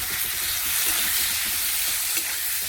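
Ground spice powders (turmeric, chili, cumin, coriander) frying in hot oil for a fish curry, a steady close sizzle with soft hissing throughout and no talk.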